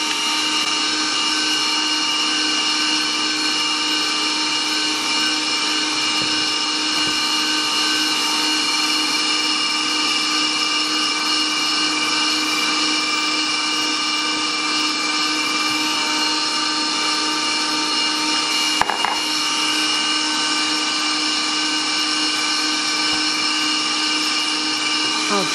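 A steady, close electric mixer whirs without a break as it beats egg yolks into a chocolate mousse mixture in a home kitchen. One brief clatter stands out partway through.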